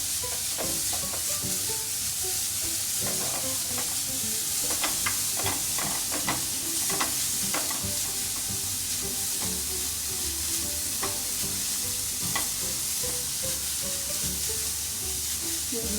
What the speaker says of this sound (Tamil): கேரட் நல்லா கலர் சேஞ்ச் ஆகணும், அது வரைக்கும் நல்லா வதக்கிடுங்க.